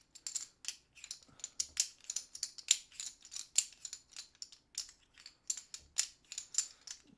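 Small cardboard minion tokens from the Assault on Doomrock board game clatter and rustle as they are shuffled by hand, making a quiet, close, rapid run of crisp clicks and scrapes with no talk.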